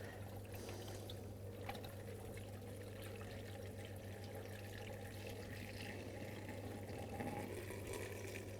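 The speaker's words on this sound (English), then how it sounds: "You'll hear it bubbling away as the air is slowly released." Coolant being poured slowly into a classic car's radiator, a soft continuous trickle and faint bubbling as air escapes, steady and quiet over a low engine-bay hum.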